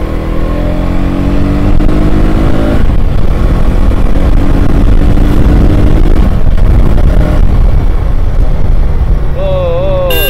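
A new motorcycle's engine revs and pulls hard during a ride, a loud constant roar rising in pitch as it accelerates, with someone talking over it.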